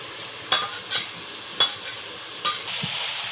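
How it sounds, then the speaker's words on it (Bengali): Vegetable stalks being stir-fried in a pan for a Bengali home-cooked meal: a steady sizzle with about four sharp scraping strokes of the spatula spaced irregularly, close and moderately loud, no voices. "এই ডাটাটা ভালো করে কষিয়ে নিয়েছি"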